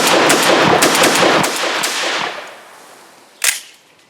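A Benelli M4 shotgun firing a rapid volley of loud, close blasts that trail off into reverberation, then one more sharp shot after a short pause.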